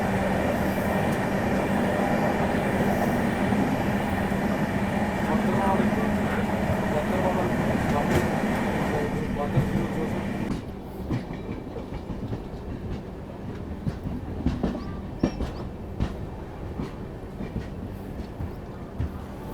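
The Dhanbad–Patna Intercity Express rushes by alongside a moving train, a loud, close rumbling roar with clattering wheels that cuts off abruptly about halfway through, leaving a quieter rolling rattle, while a voice talks faintly.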